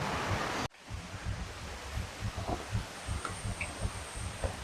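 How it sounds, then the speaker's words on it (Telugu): Steady rushing of a waterfall stream at Rampa waterfalls, Rampachodavaram, fills the clip, with a sharp cut near the start and faint wind noise over the continuous stream. "పైన పెద్ద వాటర్ ఫాల్ అయితే ఉందంట కింద వరకు అయితే ఇలా వాటర్ వస్తున్నాయి"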